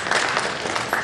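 Brief burst of clapping at a government communications minister's valedictory press briefing, a short steady patter of hands from the room lasting about a second.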